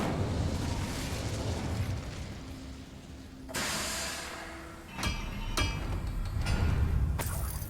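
An Incendio fire spell in a video game, a sustained roaring burst of flame followed by sharp cracks and pops, with game ambience continuing around it.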